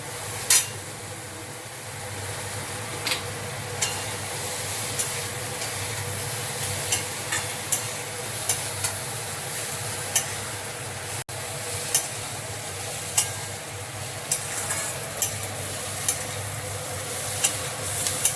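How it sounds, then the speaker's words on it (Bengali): Chopped vegetables with tomato and paneer fry in a pan under a soft, steady sizzle, while a spatula taps and scrapes at regular intervals, fairly quiet and without speech. "আবার এটাকে নেড়ে চেড়ে ভেজে নেবো।"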